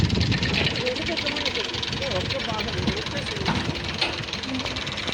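A tractor engine idling outdoors, a steady low rumble running beneath people talking nearby.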